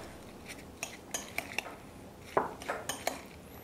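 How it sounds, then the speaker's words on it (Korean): Waldorf salad of apple, walnuts and celery is tossed in mayonnaise sauce, with scattered light clinks and scrapes of utensils against a bowl, close and fairly quiet, in irregular bursts. "마요네즈 소스에 샐러드를 버무려 보도록 하겠습니다"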